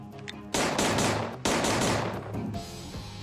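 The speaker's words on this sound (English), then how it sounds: "it can fire single shots, 3-round bursts, or empty its magazine in full auto" CZ Scorpion EVO 3 A1 submachine gun firing on full auto, two loud sustained bursts of rapid shots close by, the first about a second long and the second roughly a second and a half, then a short ringing tail.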